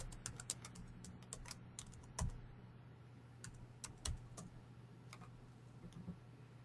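Keystrokes on a computer keyboard as a username and password are entered, a quiet run of irregular clicks and taps over a steady low hum, with a couple of heavier key presses standing out.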